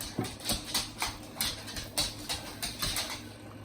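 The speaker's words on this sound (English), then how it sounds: "He's chasing his tail in the background, so that's the noise you hear." Quick, light, irregular pattering and scrabbling of a dog chasing its tail in a home kitchen, faint and repeated in short bursts over a steady hum.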